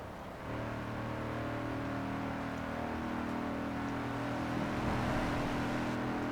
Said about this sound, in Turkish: Yalnız 4 vites 300 ile gidiyorum hala devir var